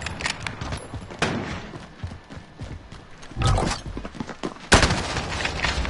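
Gunfire in Call of Duty: Modern Warfare Search and Destroy, with scattered shots and bursts of fire at moderate loudness and a couple of sharper, louder reports, set over busy game ambience.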